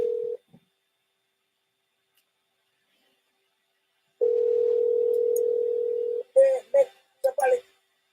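A telephone gives a short tone, then a long steady dial tone, then a few clipped beeps as a call is placed. A voice speaks toward the end.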